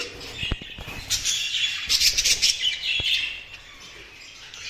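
Jumbo budgerigars in a cage chirping and chattering close by, with bursts of sharp tweets and warbles plus a few clicks from the cage.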